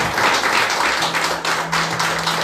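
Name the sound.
congregation applauding in church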